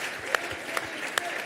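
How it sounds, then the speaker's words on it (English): Crowd applause at a live school fundraising auction, a dense distant wash of clapping with a few sharper close claps standing out. "Give these people here, a young couple here, a good big round of applause."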